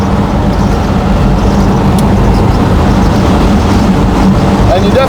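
A 1959 Chevrolet Impala flat top cruises with a steady, loud engine and road rumble, wind and drive noise filling the cabin continuously.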